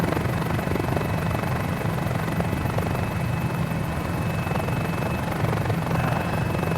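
Mini 500 helicopter in Microsoft Flight Simulator 2020, a steady loud rotor chop and engine drone running continuously and evenly, heard up close with no voices.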